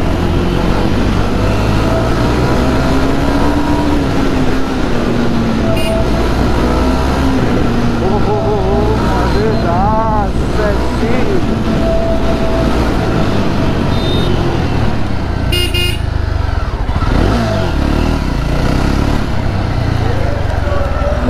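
A Jawa 42 2.1 motorcycle engine rumbles steadily and loudly at close range, with occasional revs over constant wind and road noise, while someone talks over it.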